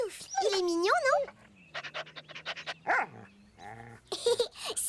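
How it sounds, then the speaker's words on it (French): A cartoon dog pants and gives a few short barks and whimpers, mixed with and between French-speaking voices of the characters. "c'est vrai que c'est un très beau chien"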